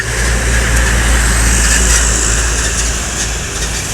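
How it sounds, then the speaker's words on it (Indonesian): Buses from West Sumatra roll through Palembang city on a morning road, producing a loud, steady engine and traffic rumble that holds close and constant throughout, with no talking. "Kita akan melihat bus-bus dari arah Sumbar yang melintasi kawasan Kota Palembang"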